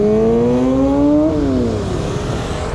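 A Dodge Viper V10 engine revs up close, its pitch climbing sharply and then dropping away as the throttle eases off in one loud, smooth rev.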